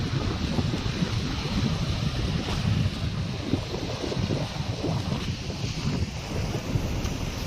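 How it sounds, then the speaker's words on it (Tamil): Wind and surf at a village seashore, a constant broadband rush of breaking waves and gusts buffeting the microphone, steady and close throughout with no voices. "இப்போ வந்து எங்கள் ஊர் கடலுக்கு தான் வந்திருக்கோம்."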